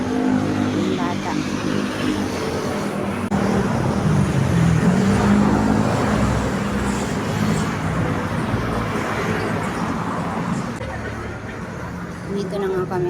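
Highway traffic roars past a roadside spot where people wait for a jeep, with a steady wash of passing vehicles and engine noise underneath people talking nearby.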